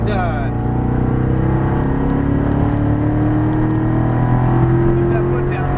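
Corvette Stingray on a Las Vegas race track, its engine droning loud and close with a slowly rising pitch as the throttle is squeezed, steady and unbroken, with an instructor's voice talking over it.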